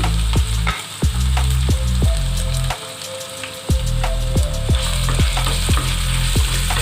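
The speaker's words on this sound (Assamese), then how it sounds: "এইখিনি অকণমান সময় ভাজি ল'ম মই।" Garlic and cumin seeds sizzle and crackle in hot oil in a pan, with a steady frying hiss broken by repeated sharp wooden stirring knocks, close and alone.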